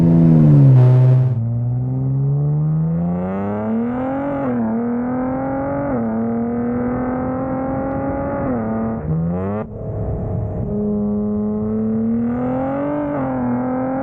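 A tuned Nissan Z sports car on E85 fuel launches with a brake boost from second gear, engine revving hard and climbing through the gears, loud and close, with a brief drop between shifts before pulling again.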